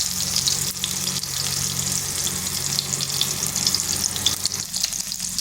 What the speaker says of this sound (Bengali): এরপর এর তেলের মধ্যে আমি দিয়ে দিচ্ছি টমেটো, আর দিয়ে দিচ্ছি কাঁচা লঙ্কা।